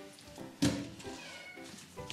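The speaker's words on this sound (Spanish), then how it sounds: "mirad, está por ahí el gato. Le oigo" A house cat meows somewhere nearby in a kitchen where fish is being cleaned, a single short, moderately faint meow followed by softer household sounds.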